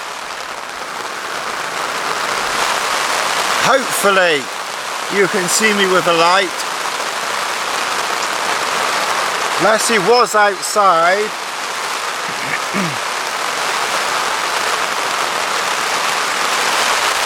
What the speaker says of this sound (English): as you can hear, it's raining again.